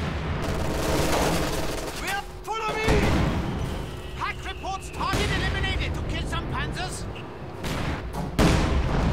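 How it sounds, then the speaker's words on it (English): Explosive mortar and artillery impacts with scattered gunfire boom through a World War II battle in the game Company of Heroes 2, sustained and loud, with game voice lines and chatter over the top. "They've got mortars everywhere."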